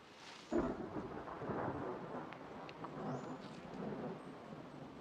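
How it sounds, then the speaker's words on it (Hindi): Thunder from an approaching monsoon storm over tropical islands, a sudden crack followed by long, low rolling rumbles that fade and swell faintly in the distance. "पर इन सबसे दूर एक दूसरा तूफान सामने आने वाला है।"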